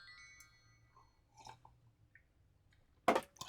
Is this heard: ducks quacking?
no